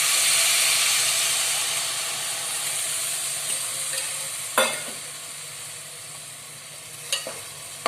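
Jaggery syrup hits browned coconut in a hot pan and sets off a loud, steady sizzling hiss. The hiss slowly fades over several seconds, broken by a couple of sharp utensil clinks.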